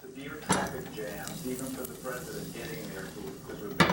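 A utensil scrapes and clinks against a pan while flour is stirred into butter for a cheesesteak with fried onions, peppers and mushrooms, with a soft sizzle underneath and a few sharper knocks of metal on the pan.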